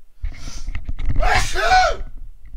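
One close, loud sneeze bursts out after a brief intake of breath, standing alone with no talk over it.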